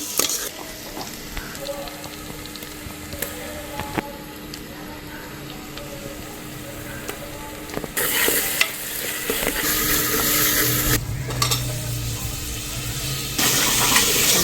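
Ginger garlic paste frying with softened onions in a pan for a dried-meat curry, sizzling and stirring with scraping bursts that swell louder toward the end, close by and without talk.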